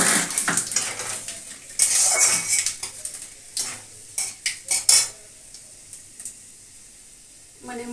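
Fenugreek, radhuni, fennel and mustard seeds go into hot oil, and a light sizzle rises. Utensils clink and scrape against the pan in uneven bursts, close by and moderately loud.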